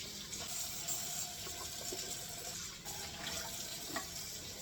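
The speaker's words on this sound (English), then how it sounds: "first I need to wash my standing mixer bowl and paddle" Tap water runs steadily into a sink while a stand mixer bowl and paddle are washed, giving continuous soft splashing with a few faint clinks, fairly quiet and without talk.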